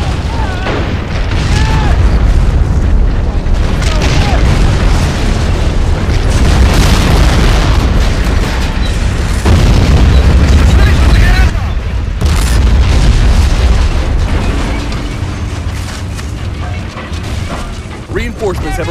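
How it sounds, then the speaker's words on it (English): Battleship artillery bombardment in the Men of War: Assault Squad 2 video game, heavy booming shell impacts and blasts piling up in a dense continuous barrage, loud and close, with voices talking over the fire. "Our ships are opening fire."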